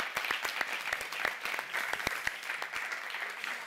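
Studio audience applauding during a comedy show, dense continuous clapping with sharp individual claps standing out, steady and fairly close throughout.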